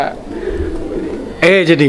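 A Golla pigeon gives a short, throaty coo close by near the end, after a stretch of quiet, low background sound.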